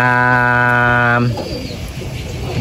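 A racing pigeon coos close by in a steady sustained call for just over a second, then the sound fades into low background noise.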